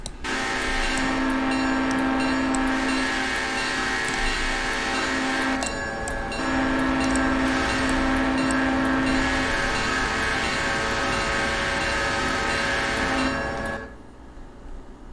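A train runs steadily in the Railroader railroad game, a loud continuous rumble of wheels and engine with a sustained horn-like tone, cutting out abruptly near the end.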